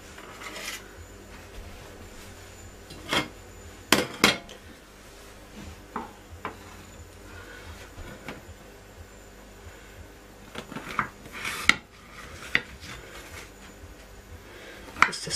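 A knife and cutlery scrape and clink against a plate while an air-fried pavlova is sliced, with scattered sharp taps and soft rubbing sounds at irregular intervals, close and fairly quiet.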